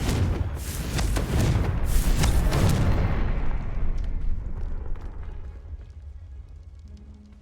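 A Confringo blasting spell explodes in the Hogwarts Legacy video game: one loud, close, booming blast with a deep rumble that trails off gradually over several seconds, with no voices.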